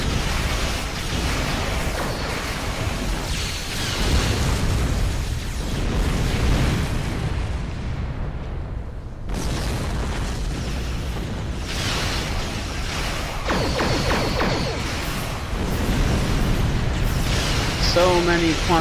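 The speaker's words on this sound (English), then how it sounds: "So many quantum torpedoes." Quantum torpedo explosions in the space combat game Star Trek Online, a dense run of loud booms and bursts layered over continuous battle noise, with a short dropout in the middle and a voice talking over it.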